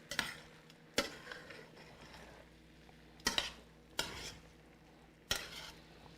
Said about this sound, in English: Stir it one more time.